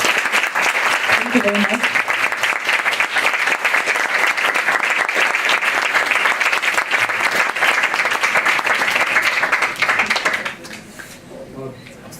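Dense, loud audience applause for a speaker after a talk at the Royal Asiatic Society, sustained for about ten seconds before dropping away as a voice speaks briefly at the end.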